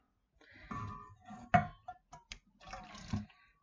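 Hot water pours into a container for mixing gelatin soap, a close, quiet series of splashing gurgles and drips that start and stop in short spurts.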